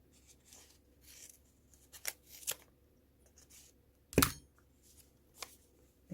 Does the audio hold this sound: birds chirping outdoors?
no